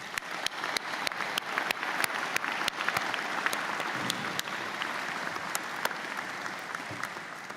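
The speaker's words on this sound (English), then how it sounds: "May I ask you to please join me in a round of applause for MRU's employees" Convocation audience applauding university employees at a graduation ceremony: steady, dense clapping from a large crowd, sustained at an even level for the whole stretch with sharp individual claps standing out.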